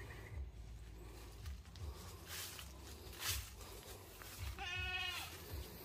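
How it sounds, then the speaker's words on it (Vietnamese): Goats kept in a neighbouring garden bleat once in a short wavering call partway through, moderately near, over steady outdoor background noise and wind. "vườn cái bên người ta đang nuôi dê cũng rất là nhiều anh chị"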